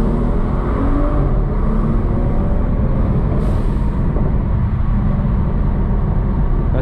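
Tuned BMW 640i Gran Coupe (MHD tune) engine downshifting while driving, a steady loud low rumble with road noise throughout and a brief rise in pitch partway through.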